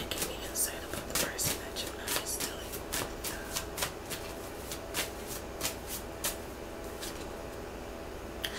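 Tarot cards being shuffled and drawn by hand: sharp, close riffling snaps and soft card slides recur irregularly over a low background, with quiet whispered speech at times.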